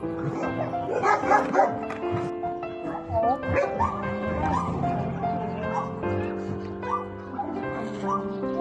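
Corgis bark, yip and whimper in quick excited bursts while scuffling during play-fighting at a dog rescue shelter, with people talking over the commotion.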